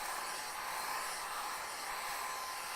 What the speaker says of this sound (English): And it vacuums up that lint.